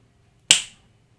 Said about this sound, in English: I can record myself snapping my fingers like this